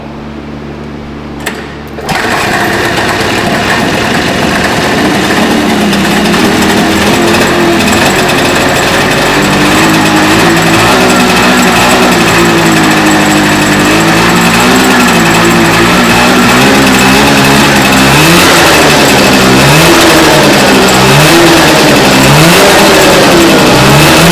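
An old Kawasaki Drifter motorcycle engine, carburetor just refitted and fed from a makeshift gas tank, sputters to life after a short kick, then runs loud and rough, revving up and down in uneven surges.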